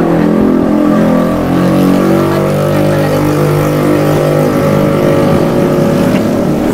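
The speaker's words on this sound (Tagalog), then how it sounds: "Grabe yung mga motor." Loud, continuous engine roar from motorcycles streaming past on a roadside highway, a dense steady drone with rising revs and no pauses, close to the listener.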